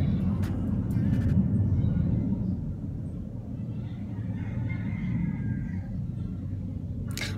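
An airplane passes overhead near an airport, a low continuous rumble that swells gently and holds steady, with a few faint clicks and no talking.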